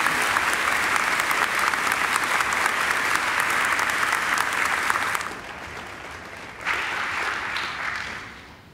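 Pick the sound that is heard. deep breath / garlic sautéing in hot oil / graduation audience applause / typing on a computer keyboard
graduation audience applause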